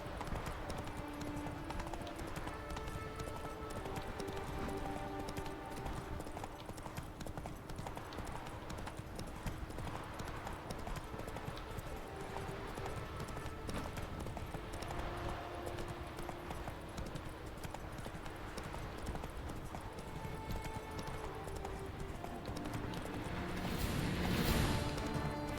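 The horse Roach gallops in The Witcher 3 video game, a steady, rapid clip-clop of hooves running throughout, with a brief louder burst near the end.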